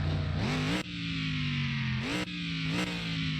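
A restored Plymouth Road Runner engine is revved hard three times, each blip rising in pitch and then dropping back to a loud, rough idle, close by with no talk.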